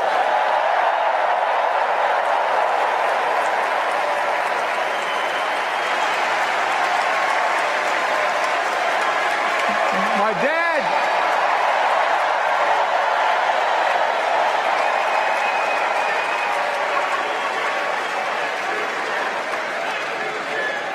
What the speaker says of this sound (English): Let's give a special round of applause to our First Lady, Jill Biden.